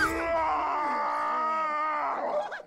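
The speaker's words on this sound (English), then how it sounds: "Who the hell did that scream?" A character screams in the video game Shadow of War: a long, harmonic, wailing cry that holds steady and then wavers and breaks off at the end, loud and close.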